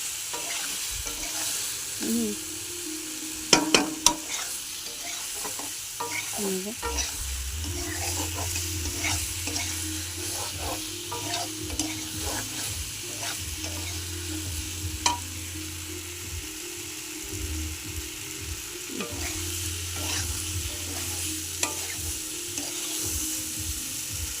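Ginger, cumin and chilli paste stir-fried in a pan, a steady low sizzle with repeated spatula scrapes and a few sharp clanks, while a faint tone hums in the background.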